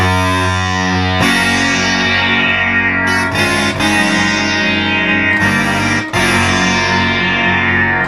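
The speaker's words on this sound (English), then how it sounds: "you will hear a little zippering as you turn the knobs." A loud, sustained tone from a Memorymoog Plus analog synthesizer shifts in abrupt steps as its timbre is swept by turning knobs, with slight stair-stepping zippering audible in the changes.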